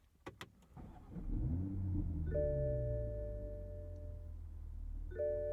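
A 2023 Toyota GR Supra 3.0 manual fires up with a short starter whir and the engine catching into a low rising rumble, then settling to a steady idle while dashboard chimes ring twice.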